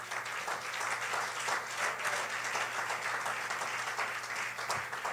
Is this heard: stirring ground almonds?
no